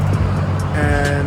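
Loud morning road traffic near a parked 2004 Audi A4 1.8 Turbo, with a continuous low rumble of passing vehicles and engine hum; a person starts speaking briefly over it.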